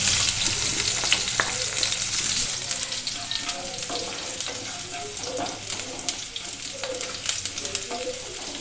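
Mustard seeds, green chilies, garlic and ginger sizzle and crackle in hot oil in a home kitchen, with a steady close frying hiss and scattered pops, and no talking.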